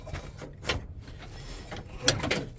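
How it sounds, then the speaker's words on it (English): A door being forced open on a junkyard Nissan Pathfinder R50, with scraping, rattling and creaking metal over a few seconds, ending in a sharp clunk near the end. "Gotta try and get this door open."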